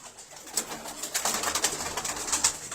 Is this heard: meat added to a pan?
no